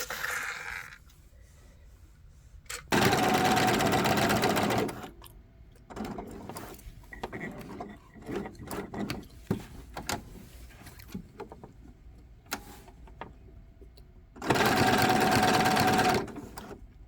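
A sewing machine top-stitches upcycled old clothing in two loud, sustained runs separated by quieter fabric handling and small mechanical clicks.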